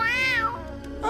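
A cat meows loudly and close by, one drawn-out rising and falling cry with a second short meow starting at the end, heard alone without talk.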